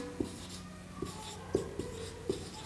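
Numbers being written by hand make faint pen or chalk scratches and taps, a few soft strokes spaced irregularly over a quiet room hum.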